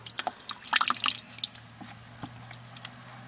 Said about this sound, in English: the water running down. I just got it on a real slow trickle.